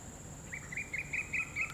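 Evening birdsong rings out clearly over quiet background hiss, a single bird repeating short bright chirps at a steady rhythm, about six calls in quick succession.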